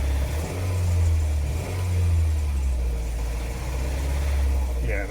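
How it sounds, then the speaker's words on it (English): Worn car engine with a rod knock idling and revving close by, a low rumbling drone rising and falling in surges, with a voice speaking briefly over it. "Yeah, it's knocking. The motor's knocking."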